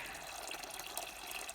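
Water runs steadily into a bucket, a soft continuous splashing wash with faint drips, heard up close and fairly quiet.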